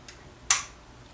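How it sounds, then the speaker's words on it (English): A single faint, sharp metallic click of a firearm dry-firing on a snap cap in near silence, preceded by a softer tick. "That little click is what you will hear if a firearm is having an issue or is not loaded properly."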